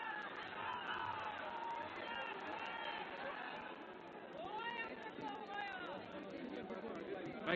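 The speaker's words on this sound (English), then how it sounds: "Great crowd." A large crowd at a cricket ODI with Afghanistan playing, keeping up a continuous roar of chatter, shouts and cheering from the stands, with louder rising whoops near the middle and talk mixed in.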